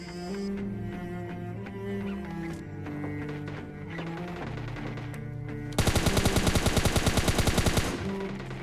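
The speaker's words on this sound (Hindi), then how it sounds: "मुझे गोलियों का साउंड आया" Rapid automatic gunfire in a video game cuts in as a loud, dense burst of evenly spaced shots lasting a couple of seconds, after steady layered game music and background sound.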